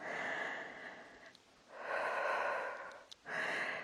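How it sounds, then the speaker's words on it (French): Forceful breathing out during an intense HIIT cardio workout: three long, hard breathy exhales with brief pauses between them, close to the microphone and with no talking. "Soufflez à fond."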